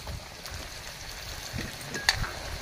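Garlic and carrots frying in a pan for homemade tinapa, a steady close sizzle with soft crackles and a brief sharp clink partway through, no talking.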